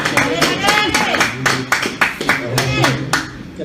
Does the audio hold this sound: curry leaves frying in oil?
no